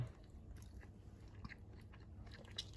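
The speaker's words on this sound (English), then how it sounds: "You finish chewing." Close, quiet chewing of a breakfast bar, soft irregular crunches and bites with mouth sounds, no talking.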